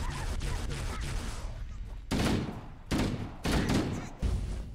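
An enemy ship in Halo: Combat Evolved fires on the players, the shots landing as several loud, broad blasts in a row, separated by brief gaps, over a steady background of game noise.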